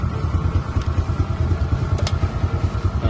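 A Honda Wave 125 motorcycle engine runs steadily at idle, a close, even low putter with a regular pulsing beat and faint mechanical clatter.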